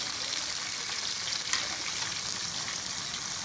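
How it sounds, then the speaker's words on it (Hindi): Mutton pieces for karahi fry in a pan with salt, giving a steady, dense hiss that stays even throughout with no voices. "पहले से खाली फ्राई करना है, फिर उसके बाद अदरक लहसुन डालना है, ताकि गोश्त अच्छी तरह से फ्राई हो जाए।"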